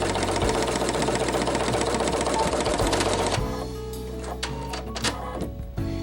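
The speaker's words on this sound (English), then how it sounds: "I already have my design downloaded to my embroidery machine, and I'm ready to stitch out Color Change 1" An embroidery machine stitches out a quilt design with a loud, rapid, even mechanical chatter up close, then stops partway through and leaves quieter clicks and a low hum.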